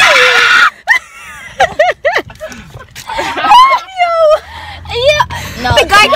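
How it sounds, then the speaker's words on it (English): Several people scream loudly inside a car in repeated rising, wavering shrieks, broken up by laughter and bits of talking. "we just want to see if we could scream"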